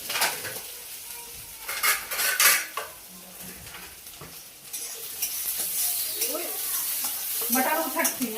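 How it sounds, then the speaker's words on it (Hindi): Peas, onion and green chillies frying in oil in a pan, with loud clattering spoon scrapes and metal knocks against the pan over a continuous sizzle, crackling pops of peas toward the end. "तभी ना हल्के हल्के से फ्राई कर लूंगी ऑयल में।"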